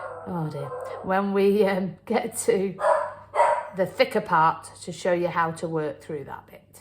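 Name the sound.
dog barking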